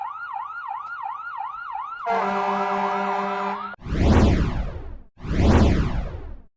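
A US ambulance siren starts with a quick yelp, then shifts to a steady layered tone, followed by two long, deep, blaring horn blasts, all loud and close.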